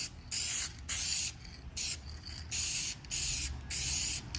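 Six bursts of an aerosol spray can lay a first coat of black trim paint on G-body quarter glass trim, each close hiss lasting about half a second with brief gaps between.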